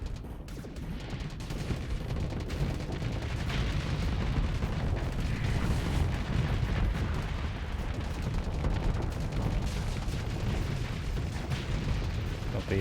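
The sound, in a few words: torpedoes launching and weapons fire in the video game Starsector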